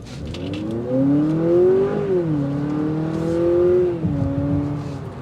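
A 2023 Honda Accord Hybrid Sport L accelerates hard, its engine whine climbing in pitch, dipping briefly and then rising again, heard from inside the car.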